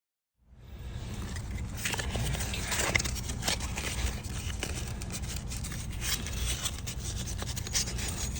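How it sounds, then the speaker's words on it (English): Hand sanding a balsa wood glidebait fishing lure with 120-grit sandpaper, a steady close rasping scrub that starts after a moment of silence and continues evenly throughout. "Symmetrical enough that I'm gonna go to hand sanding"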